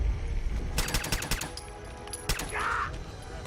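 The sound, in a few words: gunfire in Fallout 4 video game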